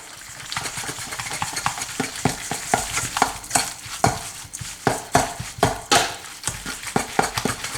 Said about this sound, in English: Using a large spoon, I'm gonna mix all this together.